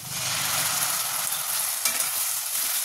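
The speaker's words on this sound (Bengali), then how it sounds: "এবার বাটা মশলাটা দিয়ে দেবো, আদা, রসুন, টমেটো আর কাঁচা লঙ্কা" Onion fries with a ground paste of ginger, garlic, tomato and green chili, making a loud, dense, continuous sizzle close by, with faint stirring scrapes.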